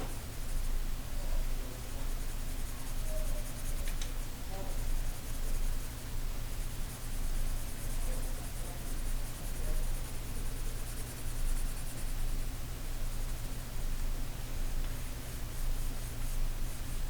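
Colored pencil shading on paper, a steady, continuous scratchy rubbing that holds at an even level throughout with no talk.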